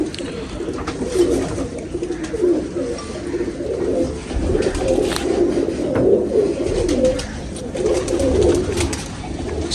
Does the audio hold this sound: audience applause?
no